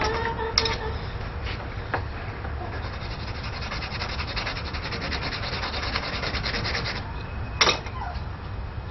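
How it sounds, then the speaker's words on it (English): A rough handmade knife is sanded by hand with a steady, rapid rasping scrub, close up and fairly quiet, with a couple of sharp knocks. "I gotta sand this down"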